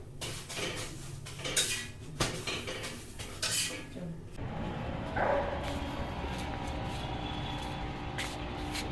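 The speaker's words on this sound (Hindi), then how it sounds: "अभी देखो शाम की पूजा के लिए सारा बर्तन धुल रही है बैठ के" Metal puja utensils being washed by hand, close clattering and clinking of pots and dishes in the first half, then quieter scraping and faint water under a steady background hum.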